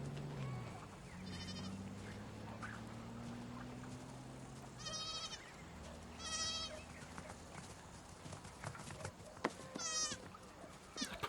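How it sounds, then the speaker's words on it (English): A goat bleats several times in quick wavering cries, faint and somewhat distant, over a low ambient hum and background tones from a TV series scene. "Precious little goat."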